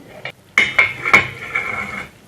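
A metal lid clanks onto a pan of eggs topped with cheddar cheese, three or four bright ringing knocks in quick succession followed by a fading resonant hum, close and loud.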